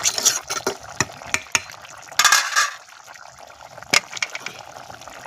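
Spoon scraping and clinking around a cooking pot as village-style home food is stirred after adding coriander leaves, a string of irregular close metallic knocks and scrapes with brief louder bursts.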